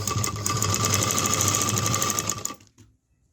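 A basic home sewing machine runs a fast, steady mechanical whirr while stitching a fall onto a saree edge, close and loud, then winds down and falls silent near the end.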